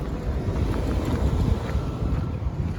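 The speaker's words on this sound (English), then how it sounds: "It's running now, and you can't really hear it ticking over." A 1997 GMC Savana van with a 3-inch single exhaust idles quietly. The steady low engine rumble is partly masked by wind noise on the microphone, and no one speaks.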